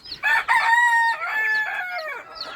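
Rooster crowing loudly and close by in a drawn-out cock-a-doodle-doo, followed by a softer trailing cluck at the end.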